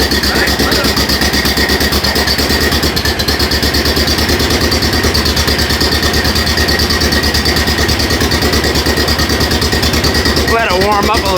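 Engine turning over and settling into a steady idle after choke and ignition, a loud continuous rhythmic drone throughout with a voice briefly over it.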